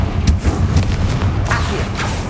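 A Confringo fire spell blast in Hogwarts Legacy goes off as a few loud booming impacts with crackling, close and prominent, with little speech.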